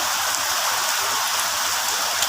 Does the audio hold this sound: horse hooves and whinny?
no